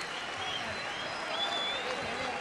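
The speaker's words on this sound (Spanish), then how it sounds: "cómo chocan las palmas de los casi mil espectadores que están esta noche aquí" Nearly a thousand boxing spectators at a fight night applauding, a diffuse wash of clapping and crowd noise, steady and somewhat distant, with a voice over it.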